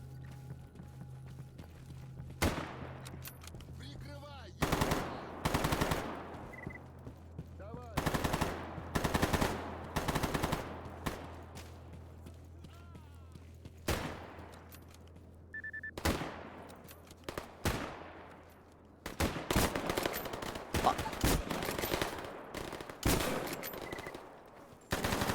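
Video game gunfire crackles in repeated bursts of rapid automatic shots and single cracks, loud and close, separated by quieter gaps with a low steady hum underneath.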